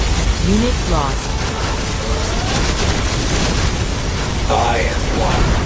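The particle cannon superweapon in Command & Conquer Generals fires with a loud, unbroken roaring blast that holds steady for several seconds, while faint radio-style unit voices sound underneath.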